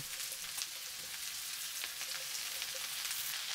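Vegetables tipped into a hot pan with garlic, onion and carrot hiss and crackle in a steady, close sizzle, with faint stirring pops throughout and no voices.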